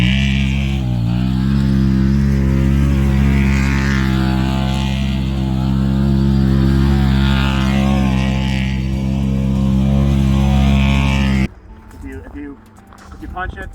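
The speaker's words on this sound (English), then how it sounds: "If you punch it from a dead stop, all 4 wheels are spinning" Engine of a Yamaha Banshee 472 off-road quad or Maverick side-by-side roaring continuously at high revs as wheels spin on icy, slippery snow, then cutting off abruptly near the end with quieter rumbling and wind.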